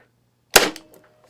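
A Parkside PET25C3 corded electric brad nailer fires a single brad into soft pine: one sharp, loud snapping crack with a brief rattling tail in an otherwise quiet space.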